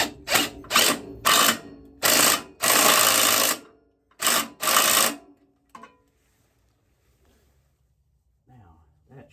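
Rapid ratcheting bursts from a torque wrench tightening a bolt on a 1989 John Deere 316 garden tractor, six or seven loud close rattling runs of varying length, then quiet with faint handling clicks.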